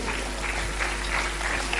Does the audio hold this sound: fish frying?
no